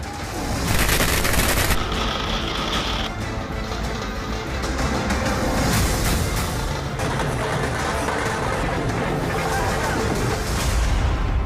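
Dense crackling bursts of firecrackers go off continuously at a political election victory celebration, loud and close, with rapid popping and booms layered together.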